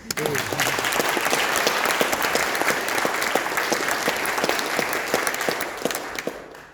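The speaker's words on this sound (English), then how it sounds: "Give them all a round of applause." An audience gives a round of applause to teaching award winners at a ceremony, dense continuous clapping with a few distinct claps standing out, holding steady before tapering off at the end.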